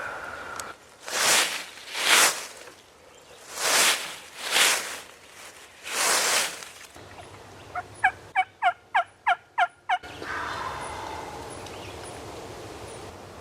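Wild turkeys in a Georgia ridge-top woodland let out several loud, rolling gobbles in a row, spaced every second or so, followed by a brief run of sharp rapid clucks and then quiet rustling.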